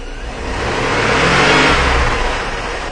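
A car engine revs steadily under added throttle while being checked for random misfires, a loud, continuous mid-pitched roar that swells toward the middle and eases slightly at the end, with no voices.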